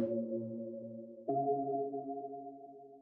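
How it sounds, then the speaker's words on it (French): A second synth pad from a remix, soft and reverb-heavy, holds one sustained chord that shifts to a slightly brighter chord about midway, smooth and alone. "on a un deuxième pad qui lui sonne comme ça"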